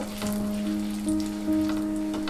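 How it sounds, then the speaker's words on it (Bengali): Tempering spices of asafoetida, cumin, bay leaf and dried chili sizzle steadily in hot oil while being stirred, a continuous close frying hiss with soft scraping and a low hum beneath. "এটা যতক্ষণ না ভাজা ভাজা হচ্ছে আর ভালো গন্ধ বেরোচ্ছে ততক্ষণ কিন্তু এটাকে আমি নাড়তে থাকবো"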